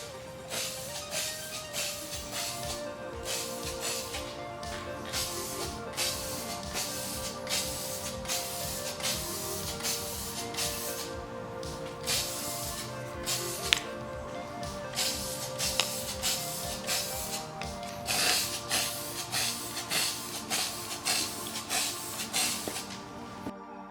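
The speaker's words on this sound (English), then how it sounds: "The chin, along with the faceplate, were also given 2 good coats of paint as well." Spray paint hissing onto the chin and faceplate of an Iron Man helmet, laid on in repeated short bursts with brief pauses between passes, steady and fairly close.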